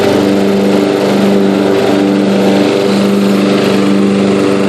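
A Yard King riding lawn mower cutting grass, its engine droning loud and steady at close range without a break, the tone holding even as it bogs down slightly under the load.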